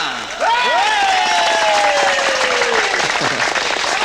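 Loud audience applause and cheering greet a singer at a live Batak music show, a dense wash of clapping with whistles and shouted cheers rising throughout.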